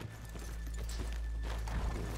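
Soft clip-clop of horse hooves at a walk in Red Dead Redemption 2, quiet and steady under a low rumbling background, with no voices.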